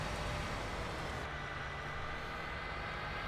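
Tractor engine driving in Farming Simulator 19, a steady broadband drone with a low hum, continuous and fairly loud throughout with no talk.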